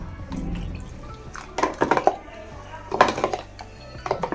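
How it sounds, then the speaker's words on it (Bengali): Gram flour and wheat flour batter with salt, turmeric and cumin powder being mixed with water in a bowl, giving irregular wet clinks and scrapes of utensil on dish in uneven bursts, fairly close. "আর এবার জল দিয়ে এটাকে ভালো করে একটু মেখে নেব"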